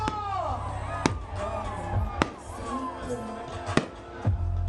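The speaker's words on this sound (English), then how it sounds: "as the fireworks go off at the Kings Park Arena here in Bogota, where the fan zone is set up" Fireworks burst over a stadium fan zone during a Uganda versus South Africa football match night: three sharp, loud bangs spaced a second or more apart, heard over steady crowd noise and excited talk.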